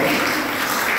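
Congregation applause at a church seminar, a brief, loud, dense burst of clapping filling the short moment evenly.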